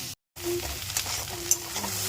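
Okra and onions frying together in oil in a pan, a soft, fairly faint sizzle with a few light clinks and stirring scrapes after a brief gap of silence.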